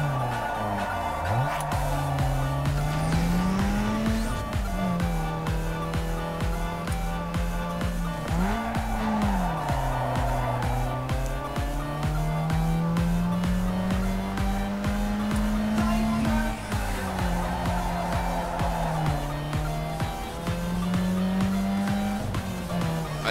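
Car engine in Need For Speed Underground 2 revving and shifting through gears as it races around city streets, with repeated rising pitch sweeps and intermittent tire squeal, loud and continuous.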